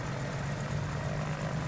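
A steady, loud propeller engine drone from a Cessna 337 in Microsoft Flight Simulator 2024, running evenly with a low throbbing hum and no talking.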